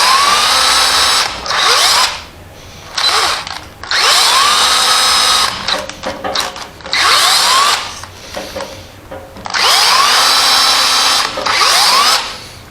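A repaired electric screwdriver, used as a drill with a bit, whirs in repeated bursts while boring holes. Several loud spin-ups come one after another, separated by short pauses, with no talking.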